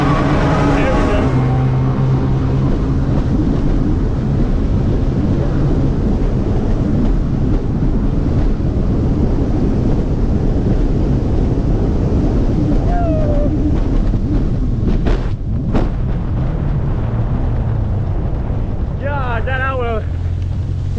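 A Sea-Doo RXP 300 personal watercraft racing on open water, its engine a steady loud drone under heavy wind buffeting, with brief voices near the end.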